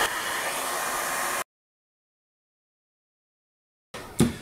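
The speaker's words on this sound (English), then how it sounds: "And by fan, I of course mean a hair dryer." A steady hair dryer blows with a hissing rush while drying paint on a fabric stencil, then cuts off to silence before a short burst of blowing returns.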